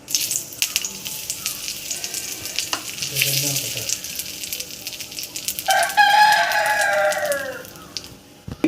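Neem leaves sizzle and crackle in hot oil in a heated pan, a steady frying hiss through the clip, with a rooster crowing loudly near the end.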